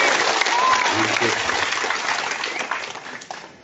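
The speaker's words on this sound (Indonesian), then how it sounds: "Kita berikan tepuk tangan lagi" An audience claps steadily at a Golkar party gathering in Alor regency. The applause is dense and loud at first, then thins toward the end, with a voice speaking over it.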